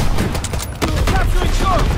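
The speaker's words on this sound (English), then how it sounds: "Anti-aircraft bursts commenced" Anti-aircraft fire in a military video game comes as dense, loud overlapping bursts and booms that fill the whole stretch without a break, with no speech.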